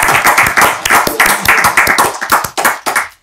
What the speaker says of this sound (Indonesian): Tepuk tangan buat Bolot.